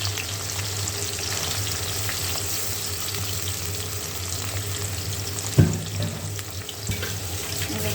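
Loitta dried fish frying in deep oil, a steady close sizzle with a low hum underneath and one sharp clatter of a utensil partway through, no voices.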